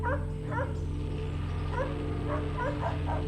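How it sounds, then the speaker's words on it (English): Dogs yip and bark in a series of short, moderately distant calls, some whimpering, over a loud steady low hum. "What's happening with those dogs?"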